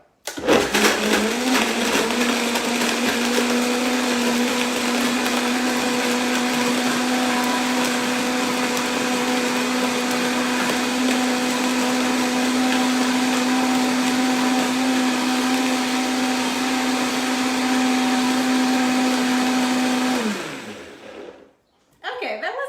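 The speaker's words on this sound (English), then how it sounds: "the blender is going to be really loud" A blender whirs loudly and steadily for about twenty seconds while making a Coffee Crisp smoothie, a sustained motor drone that stays level before cutting off abruptly, followed by a brief quiet tail.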